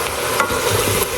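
Broccoli and cauliflower soup ingredients being stirred in a pot, a close, fairly loud sizzle with a few soft scraping strokes of the spoon, no voices over it.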